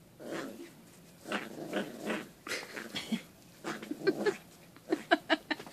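Cats fighting over a bed let out low growls and rising, strained yowls in close, uneven bursts that grow more intense toward the end.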